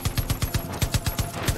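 Rapid bursts of automatic gunfire in Far Cry 5, about ten evenly spaced heavy shots from a vehicle-mounted gun in quick rhythm, loud and close with no voices.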